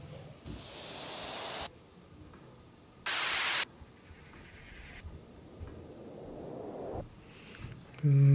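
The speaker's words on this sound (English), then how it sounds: "I definitely want white noise." White noise bursts from a melodic techno track: several separate hissing swells and sharp blocks of static, some rising and fading, one short and loud, layered over a quiet background with a faint voice nearby.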